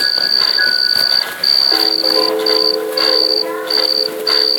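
A grasshopper in the Slendrina video game chirps in steady repeated high-pitched pulses with brief gaps, loud and clear, while a few sustained tonal game sounds come in beneath it.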